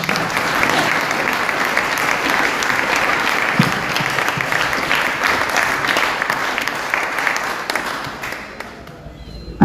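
Warm audience applause at an evening gathering, thick continuous clapping from a crowd that keeps a steady level, then thins and fades out near the end.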